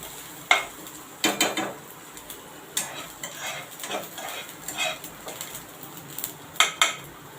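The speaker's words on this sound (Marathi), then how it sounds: "हे मी आता एका डिशमध्ये काढून घेते" A spoon scrapes and clinks against a pan as lightly fried dry fruits for rice kheer are scooped out into a dish, with irregular close metallic knocks and scraping, without speech.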